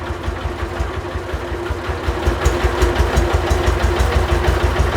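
A large diesel generator engine runs steadily at idle, with a deep rhythmic low-frequency throb and mechanical clatter throughout, close and loud.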